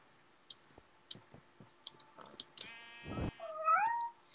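A cat meows in the video game Magic Survival, a drawn-out, rising and wavering cry near the end that follows a scatter of sharp clicks and ticks, close and clear with no talk over it.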